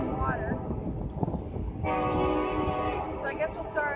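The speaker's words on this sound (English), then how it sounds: "as soon as the train stops, we'll start again" A train passing at Harpers Ferry, West Virginia, near steep cliffs above the water, rumbling steadily with a long horn blast partway through, heard beneath quiet talk and outdoor background.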